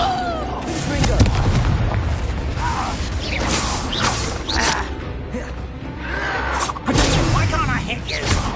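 Confringo fire-blast spells in the Hogwarts Legacy video game, booming bursts and crackling impacts amid dense, continuous combat noise, with a voice speaking throughout.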